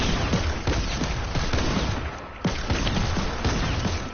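Rapid, dense gunfire in a zombie-mode video game, overlapping bursts and single shots in an almost continuous loud barrage with no clear pauses.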